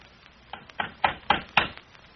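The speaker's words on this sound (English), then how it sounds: "Someone's at the door, Rosa." Someone knocks on a door in an old radio drama: a quick series of about five sharp raps, the middle ones loudest, heard alone with no voices.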